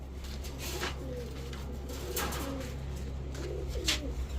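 A flock of three-banded red-geared Mayna pigeons coos in low, overlapping murmurs that continue steadily throughout, with a constant low hum underneath and some faint higher rustling.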